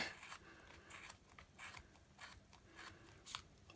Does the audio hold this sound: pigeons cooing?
no